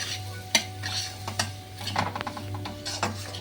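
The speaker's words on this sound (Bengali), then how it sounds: "100 গ্রাম সুজি আছে এতে, সুজিটা দিয়ে দিচ্ছি। এটাকে ব্রাউন করে ভেজে নেব।" Semolina toasting dry in a karahi with whole fennel seeds for halwa, giving a soft scraping stir with a few sharper spoon knocks against the pan over a low steady hum.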